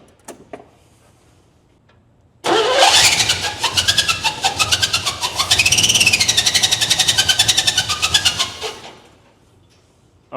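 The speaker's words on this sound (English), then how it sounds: "I've never heard an engine that sounds like that, but you did get it running" A 1957 Chevrolet Bel Air cranks over and catches, then runs for about six seconds with a loud, rough, pulsing idle and a rise in revs before it cuts off, leaving quiet. No voices are heard.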